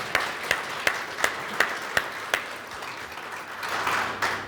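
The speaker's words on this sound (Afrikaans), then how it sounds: "Kan ons vir die mense wat daar by die huis sit 'n lekker hande klap gee" A church congregation claps together in a hall, first as a run of evenly spaced claps and then as looser, blended applause that fades toward the end.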